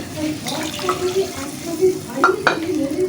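Water pours into a pan of fish curry on a home stove, a steady splashing with a few clinks of utensils over a constant background hum; a voice speaks faintly underneath.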